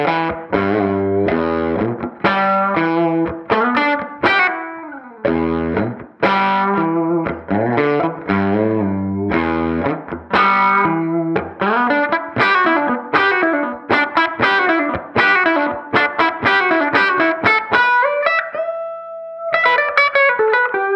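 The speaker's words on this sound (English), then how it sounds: "I'm gonna have Aaron plug this guitar into this 57 reissue twin amp and we'll see how she sounds" A 1973 Gibson Les Paul Deluxe played through a Fender '57 reissue Twin amp, with effects-laden, slightly distorted chords and melodic runs, loud and continuous with chorus and reverb, ending on a sustained held note before a final flourish.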